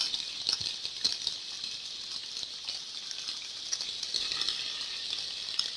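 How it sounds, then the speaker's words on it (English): Mince meat bread roll frying in hot oil, a steady bright sizzle with crackling pops that holds at an even level throughout. "I'm going to throw it into there and let it fry. I make sure that my oil is hot."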